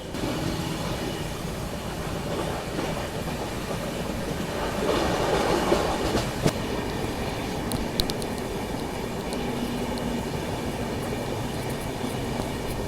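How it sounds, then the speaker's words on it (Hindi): Passenger train in India gathering speed, a steady rumbling roll of wheels on track with a denser swell in the middle and a few sharp clicks, continuous and fairly close, no voices. "अब यहाँ से स्पीड अप हो रही है ट्रेन"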